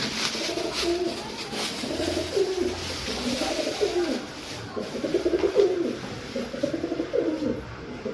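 Pigeons coo in a repeated rhythmic series of low, soft, throaty calls close by, with a faint background hiss.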